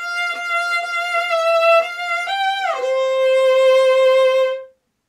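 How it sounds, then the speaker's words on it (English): Solo violin phrase with smooth bow changes absorbed by wrist and fingers, gentle and connected, sliding down to a sustained final note that fades out. "absorbs the change of the bow and makes for a much smoother, gentler sound."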